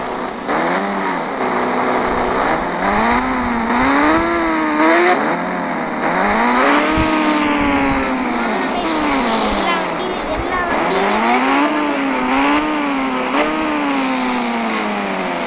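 A motorbike engine in an Indian bike video game revs repeatedly, rising and falling whines in waves, with a tire squeal near the middle, loud and continuous while a person talks over it.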